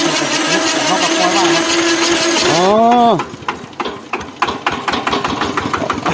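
A modified Thai-built 4x4 farm tractor engine, loud and close, holds a steady rough idle, then revs with a rising and falling whine before dropping back to uneven chugging; people talk in the background.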